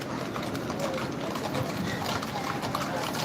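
Police horses clip-clopping along a street, a steady stream of hoof clatter under constant crowd noise and talking, fairly faint and unbroken throughout.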